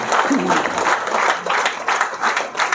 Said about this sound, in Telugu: ఒక్కసారి బిగ్ రౌండ్ ఆఫ్ అప్లాజ్